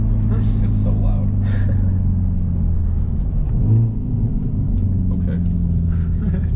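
Loud stock exhaust of a 2021 Hyundai Veloster N pulling hard in second gear near 5,500 rpm, a steady close-up engine drone and rumble from inside the cabin, with a brief surge midway and people talking over it.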